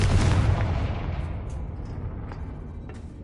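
A loud, close blast from the Confringo blasting spell in Harry Potter booms out at once, then rumbles and fades over a few seconds with small crackles trailing off.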